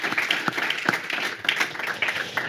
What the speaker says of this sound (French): Vous pouvez d'ailleurs vous applaudir, comme ça on sait bien que vous êtes là.